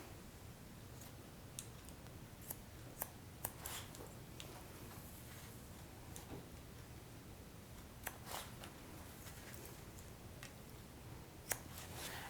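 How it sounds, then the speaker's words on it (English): Scissors cutting hair for a textured short bob, faint scattered snips and clicks at close range over a quiet background hiss, no voices. "We're just going to go in and cut that off."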